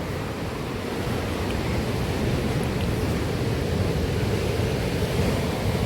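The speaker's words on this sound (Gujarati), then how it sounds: "દરિયો ભાઈ જો ગાંડો થઈ ગયો" A stormy sea pounds the shore in a loud, continuous roar of crashing waves and wind, with no voices.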